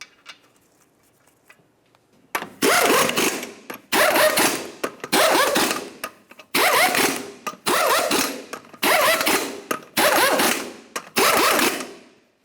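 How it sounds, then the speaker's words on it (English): A power impact wrench spins lug nuts down on a Dodge Ram 2500 wheel, firing in seven loud bursts of rapid hammering, each about a second long with short gaps, after a quiet start. "We'll start on all of our lug nuts, bottom them out, get the wheel safely back on the ground"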